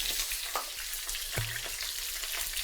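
Tomato paste sizzles as it goes into a browned mixture for brown sauce (demi-glace), giving a steady close frying hiss with a few soft stirring knocks and no voices.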